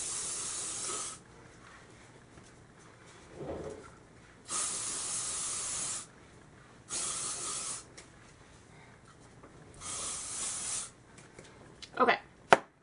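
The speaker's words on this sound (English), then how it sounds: "So I'm just going to give that a little spray." Hairspray from an aerosol can sprayed onto hair styled into curls, four long hissing bursts of a second or more each with short pauses between, close and steady, followed by a few quick rustles near the end.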